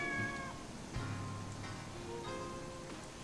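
A cat meows several times in the video game Sakuna: Of Rice and Ruin, soft rising and falling mews set over quiet game background ambience.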